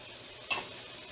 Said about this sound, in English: the thing we're going to add is salt, if I can grind it